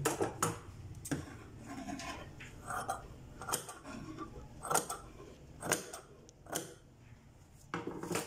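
A sewing machine runs a seam through organza lace on a dress hem, giving off light mechanical clatter in short, uneven bursts with clicks between them. No one speaks.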